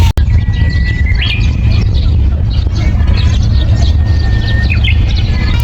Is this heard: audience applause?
no